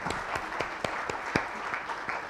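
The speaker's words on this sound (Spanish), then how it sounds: "Sí, un aplauso" Applause from the audience at a conversatorio on investment in the Biobío region, moderately loud and steady with sparse sharp claps across the whole short span.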